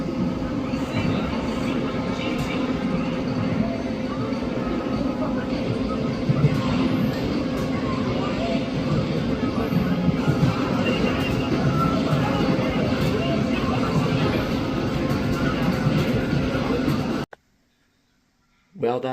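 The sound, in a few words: Amtrak Cardinal passenger train passing railroad crossing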